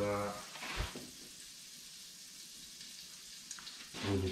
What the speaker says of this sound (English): I want the butter to burn.